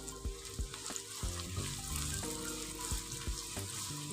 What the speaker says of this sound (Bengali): দু 3 মিনিট আমি এটাকে ফ্রাই করে নেব